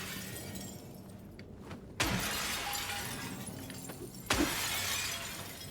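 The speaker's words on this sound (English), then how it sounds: "I hope you guys like the sound of glass shattering" Glass shattering in the Silent Hill 2 Remake video game, two loud crashing breaks a couple of seconds apart, each with a scattering tail over a low ambient hum, with no voices.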